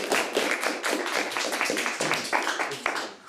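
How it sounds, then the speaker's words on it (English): Audience applause at a high school quiz competition between Ludington and Traverse City Central, a steady burst of many hands clapping close by with distinct sharp claps, continuing alone for several seconds. "Let's have a round of applause for both teams."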